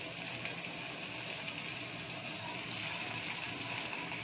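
Dried chilies and panch phoron sizzling in a little hot oil for chicken biryani: a steady, close, bright hiss and crackle that runs evenly throughout, with no talk over it.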